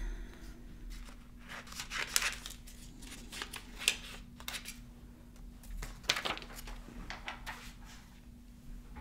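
Scissors snip through thin vellum paper in a quiet indoor crafting setting, a few faint crisp cutting strokes spaced a second or two apart over a low steady hum.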